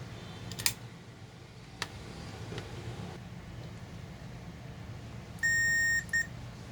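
A high electronic multimeter continuity buzzer beeps while testing a Lenovo ThinkPad T420 laptop board: one steady tone lasting over half a second, then a short second beep, over faint background hum and a few clicks.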